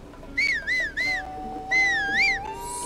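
A character whistles in the video game The Legend of Zelda: Tears of the Kingdom, three short rising-falling whistled notes followed by a longer wavering phrase, clear over a quiet game background.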